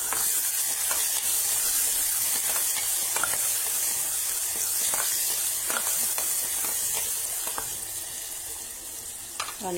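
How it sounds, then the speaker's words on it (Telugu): Chopped onions sizzle in hot oil in a pan with mustard seeds and asafoetida, a steady bright frying hiss with faint crackles and pops throughout, close and fairly loud, fading slightly near the end. "Onions fry అవనిద్దాము."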